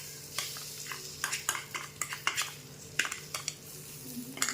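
Coarsely ground moong dal is stirred into a spice mixture in a pan for kachori filling, with a spoon scraping and clicking irregularly against the pan over a soft, steady sizzle.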